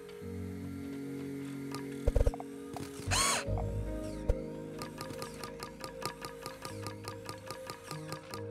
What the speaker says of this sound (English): I should need to be working more careful using power tools,